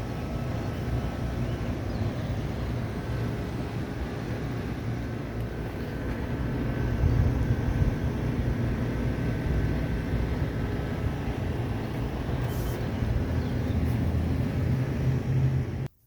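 A 1984 Mercedes 300CD, started after a short drive, idles with a low, even, continuous rumble that holds steady and close for the whole stretch, with no talk over it.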